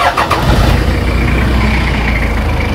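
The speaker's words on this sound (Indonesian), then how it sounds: "Kita lihat suara mesin 1KZ ya" A Land Rover fitted with a 1KZ diesel engine runs steadily, a loud, continuous low rumble heard from inside the vehicle with no talking.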